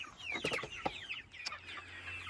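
Backyard chickens cluck in a yard, with short, bright, chirpy calls in irregular bursts at moderate distance over a faint low hum and no talking.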